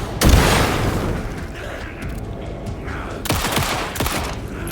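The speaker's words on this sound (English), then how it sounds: "I'm shooting this guy." Gunshots in the horror game Alan Wake 2, a heavy booming shot up front followed by a second cluster of loud reports, all set against a dense, rumbling game soundscape.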